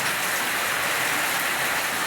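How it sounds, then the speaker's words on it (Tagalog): Heavy, unbroken rain pours onto a corrugated metal sheet roof, a dense loud hiss without pauses or voices throughout. "walang tigil yung ulan"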